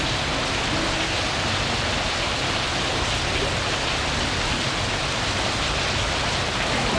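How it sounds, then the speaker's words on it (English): Heavy rain pours in a loud, unbroken hiss, dense and constant from start to finish. "Look at the rain"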